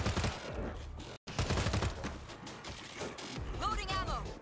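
Gunfire in the zombie shooter World War Z, rapid bursts of shots clustered near the start and middle with a brief dropout between, mixed with game effects and a voice talking over it.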